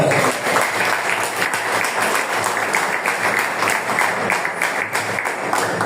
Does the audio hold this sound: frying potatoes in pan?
no